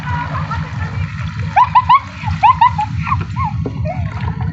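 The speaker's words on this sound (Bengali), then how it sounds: "এবার আমি জল দিয়ে দিচ্ছি।" Water splashes and gurgles as it is poured into a pan of well-browned meat for a feast, close and fairly loud, with a low hum in the background and no talking.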